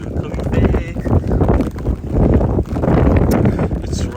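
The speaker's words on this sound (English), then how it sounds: "Oh my god, so windy." Gusty wind buffets the microphone on a rainy day in a European town, loud rumbling surges rising and falling in uneven waves, with a voice heard faintly underneath.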